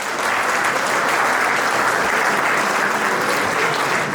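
A school audience breaks into sustained, loud applause, a dense and even wash of many hands clapping together from start to finish, with no speech over it.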